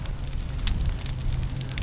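An outdoor pile of debris burns near a shop with a steady, dense crackle and hiss, close and continuous, with no voices.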